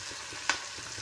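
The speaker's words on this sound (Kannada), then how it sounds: "ಉಳ್ಳಾಗಡ್ಡಿ ಟೊಮೆಟೊ ಹಂಗೆ ಫ್ರೈ ಆದ ನಂತರ" Onion and tomato fry in a pan with a steady, moderate sizzle. A single sharp utensil clink lands midway through the short stretch.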